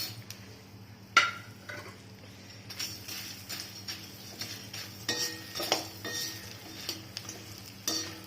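Star anise and cinnamon roasting in oil in a pan for homemade garam masala, soft sizzling under intermittent scrapes and stirring clinks of a spoon against the pan, quiet and close.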